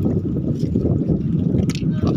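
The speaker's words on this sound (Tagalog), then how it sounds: "naglakas na talaga ang hangin" Strong northeast monsoon wind buffets a sea wall as a low, rumbling roar of gusts batters the microphone, with water sloshing beneath it.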